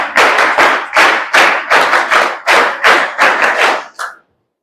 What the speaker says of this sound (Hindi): very nice, claps for her